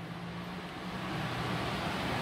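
Mallory Neo Air 15 desk fan, a 40 cm, 140 W tabletop model, running at its third speed setting with a steady, loud broadband whoosh and a low motor hum that stays constant throughout.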